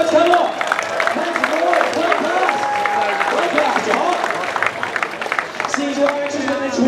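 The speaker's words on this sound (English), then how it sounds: "Give yourselves a round of applause, folks, come on!" Theme-park audience at a live Hollywood stunt-driving show claps and cheers, a loud, dense crowd sound filling the whole stretch with whoops rising over steady applause.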